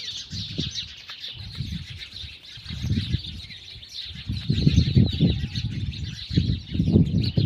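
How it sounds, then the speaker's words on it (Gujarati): Sparrows chirp continuously in the background of a village setting, a dense high twittering that carries on throughout, while irregular low thumps and rustles sound nearer. "ચકલીનો અવાજ આવતો હશે બેકગ્રાઉન્ડમાં મસ્ત મજાનો જો સાંભળો બધા"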